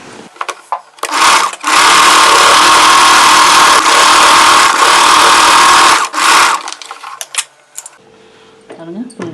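Sewing machine stitching the frill on a layered churidar, a loud, fast, steady whirring run of about four seconds with short bursts before and after, then quiet handling.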